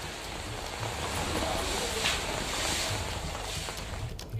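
Vehicles drive slowly and cautiously through waterlogged roads in pre-monsoon rain in Delhi, giving a steady broadband wash of splashing water and rain with a low rumble of traffic throughout.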